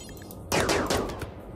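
Gunfire in the colony-building video game Rimworld: a loud burst of rapid shots erupts after a quiet start, several sharp cracks overlapping in quick succession before trailing off into softer scattered reports.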